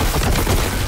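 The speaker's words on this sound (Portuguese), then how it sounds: "Eu vou usar essa bolter pesada pra quebrar os inimigos lá embaixo" Heavy bolter fire in Warhammer 40k: Boltgun rattles out as a loud, dense burst of rapid close-range shots that fills the whole brief moment.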